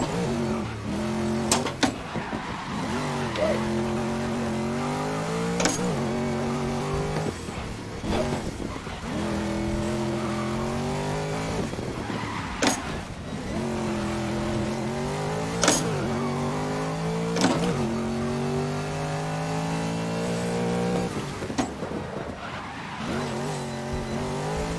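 Race car engine in the GRID 2019 racing game, revving up and down through repeated gear changes with rising pitch sweeps, loud and continuous for the whole stretch, with brief tire noise and no talk.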